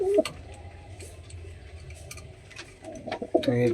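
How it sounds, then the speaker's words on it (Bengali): A pet pigeon sitting on its eggs in a loft gives short throaty coos, one burst at the start and a louder cluster near the end, with quiet rustling between. "এই যে ডিম নিয়ে বসে আছে"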